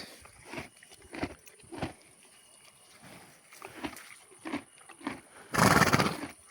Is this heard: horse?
yes